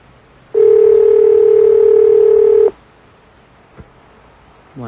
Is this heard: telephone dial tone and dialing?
yes